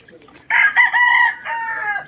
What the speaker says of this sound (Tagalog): ito yung ating cockerel